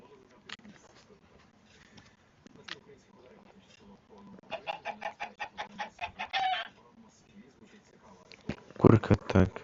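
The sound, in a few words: chicken clucking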